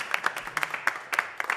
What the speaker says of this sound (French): Applaudissez-le là.